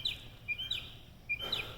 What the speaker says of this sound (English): this is the middle of the COVID-19 thing, and the birds are going ape shit